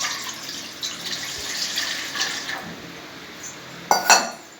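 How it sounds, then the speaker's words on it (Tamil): Water poured into an idli steamer pot on a stove, a close, steady splashing hiss with a few clanks of metal pot and utensils near the end. "அதில் தண்ணி ஊற்றிக்க வேண்டும்."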